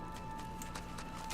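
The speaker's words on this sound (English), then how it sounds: "Oh, it's a horse." A horse in the video game Enderal, a Skyrim total conversion mod, with soft hoof clip-clops in a quick irregular rhythm, faint beneath a steady musical drone.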